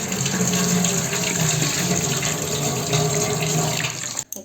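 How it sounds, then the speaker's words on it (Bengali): Gobindobhog rice rinsed under a running kitchen tap, a steady loud rush of water splashing into the bowl for several seconds before cutting off abruptly at the end. "এবার চালটা ধুয়ে নেব"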